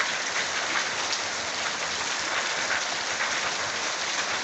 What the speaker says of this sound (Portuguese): Chuva forte.